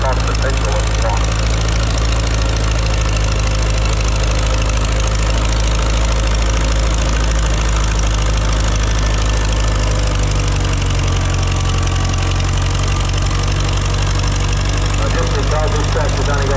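Vintage tractor engine running on kerosene, a steady low idling drone with a faint knocking, mixed with wind and distant voices at an outdoor tractor pull practice day in Korumburra.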